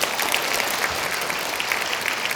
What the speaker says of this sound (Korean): 다시 한번 자연스님께 큰 박수 부탁드리겠습니다.